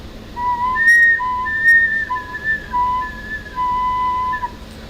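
An organ driven by unstable air flow sustains airy, wavering tones that slide between pitch and breathy noise, steady and moderately loud with a hissy bed underneath.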